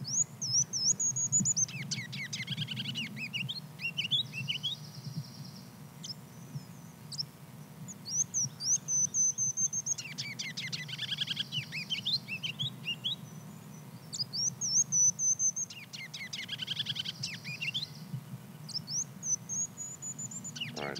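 A kinglet's high, thin song plays back as a sound test, repeated bursts of rapid twittering phrases every few seconds over a low background hum.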